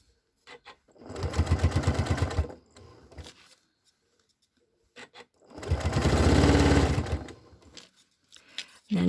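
A sewing machine stitches binding down on a stitch-and-flip stocking in two steady whirring bursts of about two seconds each, loud and close, with short quiet pauses and small handling clicks between them.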